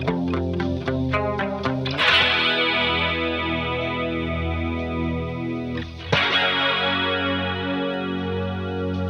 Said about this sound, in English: When we get to the bridge, those arpeggiated guitars switch to sustained chords.